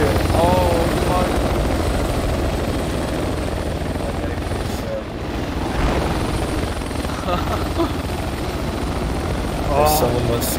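A helicopter in the military game Project Reality roars loudly and continuously nearby, its rotor thrum steady throughout, while players' voices cut in briefly over the engine noise.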